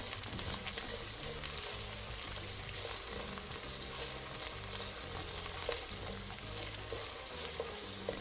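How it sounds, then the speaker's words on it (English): Chopped onions fry in oil in a pot while being stirred, giving a soft, steady sizzle with faint scraping and clinking throughout. No voices are heard. "Then I put the onions on the pot. Just gonna stir them around a little bit."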